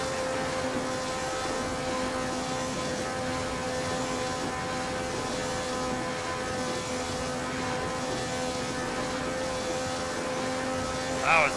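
Race car engine droning at high revs in a racing video game at Monza, a steady loud whine held throughout with the engine close to failing.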